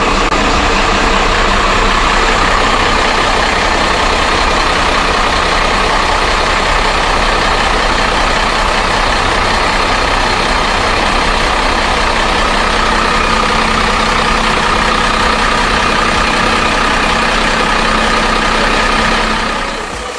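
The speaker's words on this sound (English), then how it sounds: "we're going to run the engine today" A heavy engine idles steadily and loudly for the whole stretch, a constant low rumble with no voices.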